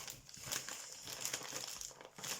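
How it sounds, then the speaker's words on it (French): Paper wrapping crinkles and rustles as a knotted-pile rug parcel is unboxed, a close, continuous scratchy crackle with a few sharper tears. "Je sens qu'il y a du papier."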